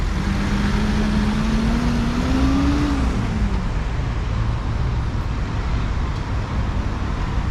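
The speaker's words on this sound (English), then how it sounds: "There it goes, blocked off by traffic, both directions." Steady, loud wash of road traffic with car and truck engines rolling past in both directions on a blocked street, one engine tone rising briefly then fading, no voices.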